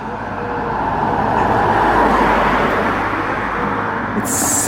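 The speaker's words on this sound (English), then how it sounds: "Here comes a car." A car approaches and passes on a road near an old abbey church ruin, its steady broadband engine and tyre rush swelling and easing at close range with no talk over it.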